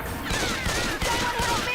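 A burst of rapid gunfire rattles out at a witch in a Left 4 Dead-style zombie shooter, loud and sustained for the whole moment over a dense game soundscape, with a voice calling out amid the shots.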